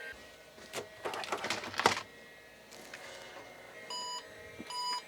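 An IBM PC XT starting up: a few sharp clicks and mechanical rattles from the floppy drive seeking, then two short electronic beeps near the end, close and moderately loud.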